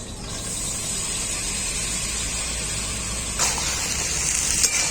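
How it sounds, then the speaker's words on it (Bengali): Boiled peas and potatoes go into a pan of frying spice paste for ghugni, producing a loud, steady sizzling hiss of hot oil that swells briefly as the ingredients hit and are stirred. "এখন আমি দিয়ে দেবো সেদ্ধ করা মটর আর আলু"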